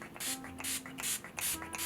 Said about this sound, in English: this one's the Urban Decay All Nighter setting spray